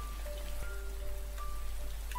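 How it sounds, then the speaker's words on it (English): Steady rain falling outside in the video game DayZ, a soft, even hiss of drops heard faintly and continuously, with a few thin tonal beeps over it and no voices. "I'm not coming out in that horrible rain"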